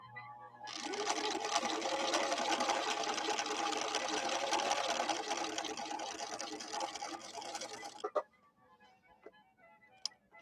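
Husqvarna Viking 6460 sewing machine running a zigzag stitch, a steady fast whirring and needle clatter that holds for about seven seconds and then stops, followed by a few soft clicks, close and moderately loud, with no talk.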